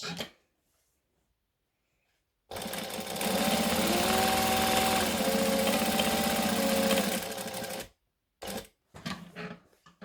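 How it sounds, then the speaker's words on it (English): A sewing machine stitches a zipper and then back-stitches, running loud and steady for about five seconds after a quiet start, followed by a few short bursts as it stops and restarts. "We're going to stitch and we're going to back stitch."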